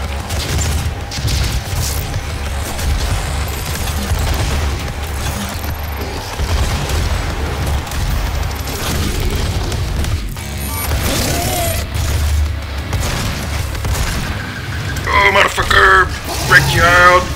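Grenade explosions in the shooter DOOM boom amid continuous game combat noise, with heavy low rumble throughout and a louder burst of blasts near the end, under occasional talk.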